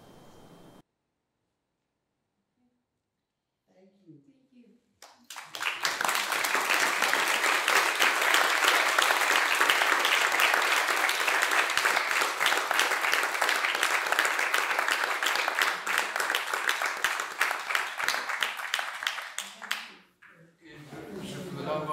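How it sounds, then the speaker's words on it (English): After a brief quiet pause, steady applause swells from a seated conference audience and fills the room for about fifteen seconds before it fades and a voice returns. "applaudissements pour Sophie Lvoff"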